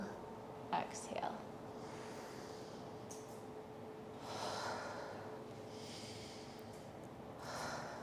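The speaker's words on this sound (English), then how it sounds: "Inhale, exhale." Slow, deep breaths are drawn in and let out during a qigong exercise, soft airy inhales and exhales coming in a few separate waves, close and quiet with a faint steady hum beneath.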